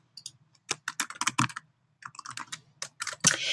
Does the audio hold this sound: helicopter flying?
no